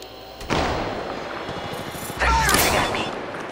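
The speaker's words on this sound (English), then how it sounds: "Getting shot at." Bursts of gunfire in a firefight in the mobile battle royale game Apex Legends Mobile, a sharp volley at the start and a louder, denser burst of shots later, with game effects over steady background noise.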